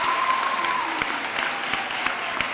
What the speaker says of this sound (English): Give them a round of applause as they march out